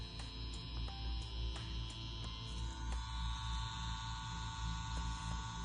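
A Mummy B1 wireless tattoo machine pen runs steadily, a quiet constant electric hum and whine with faint periodic ticks, heard alone without talk.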